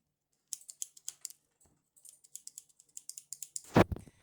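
Scissors cutting paper at close range, a run of short crisp snips in quick uneven rhythm, pausing briefly midway, then ending with a louder rustle of handled paper.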